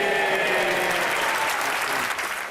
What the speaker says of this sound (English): he was applauded, but look where the clapping comes from